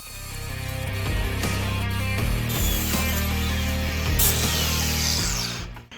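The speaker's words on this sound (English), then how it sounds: "So now we'll clean up the flanges" Corroded exhaust flanges on a 2012 Cadillac SRX are cleaned with a power tool, a close, loud grinding whine that rises and falls in pitch with short scraping bursts and clicks, ending abruptly.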